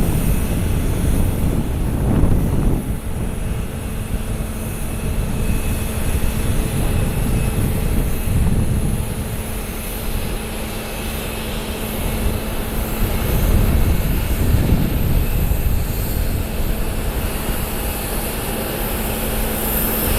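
A Spirit Airlines Airbus A320neo arriving from LAX at Columbus rumbles as a broad, windy engine roar that swells twice over twenty seconds. Microphone wind buffeting mixes in, and no one speaks.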